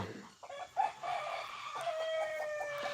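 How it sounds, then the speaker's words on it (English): A rooster crows once nearby, a drawn-out strained call, amid quieter clucks and faint background clatter. "He's a shelter rooster."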